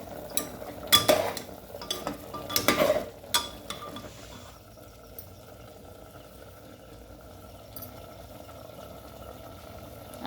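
Several scraping, clattering stirs of a spoon in a pot of mutton during the first four seconds, followed by a quiet low simmer with faint background noise.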